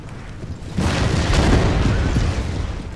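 Empire: Total War artillery, a round shot battery firing on target, comes as a sudden heavy rumbling boom that swells and lingers as a dense roar of distant cannon fire, with no voices.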